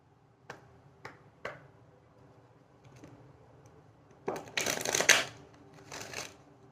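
A deck of oracle cards being handled: a few soft, separate taps, then a crisp burst of quick riffling shuffle and a shorter second flurry, close and quiet.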